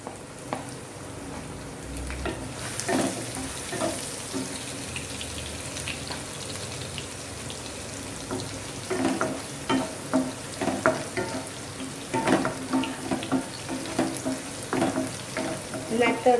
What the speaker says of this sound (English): let us add the ginger, garlic and chillies